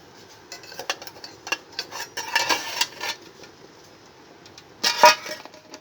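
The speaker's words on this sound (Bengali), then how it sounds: "এবার আমি ঢাকনাটাকে তুলে" Lid lifted off a pot of steamed caramel pudding, with close metallic clinks and scrapes of cookware scattered throughout and a sharper clatter of the lid near the end.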